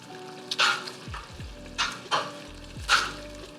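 Collard greens with seasonings and brown sugar are stirred in a pot: a few soft scraping strokes over a quiet sizzle, with a brief low tonal sound in the background.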